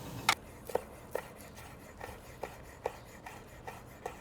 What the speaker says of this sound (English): Getting the light greens and the whites diced up now.